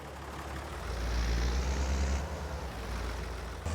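A tractor engine drives in Farming Simulator 22 with a steady low rumble that swells a little in the middle and then holds at an even, moderately loud drone.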